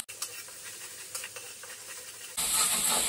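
Spices frying in a pan while being stirred during cooking of a mankochu dish: a quiet sizzle with scraping stir strokes, rising suddenly into a louder, brighter hiss near the end.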